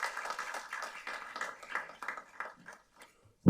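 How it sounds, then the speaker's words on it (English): Audience applause at a panel discussion on cyberbio threats: a dense patter of hand claps at moderate level that thins out and fades to near silence over a few seconds. "Ladies and gentlemen, they deserve your round of applause."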